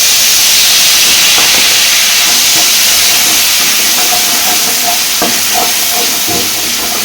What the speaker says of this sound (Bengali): এবারে দিয়ে দেবো পেঁয়াজ বাটা।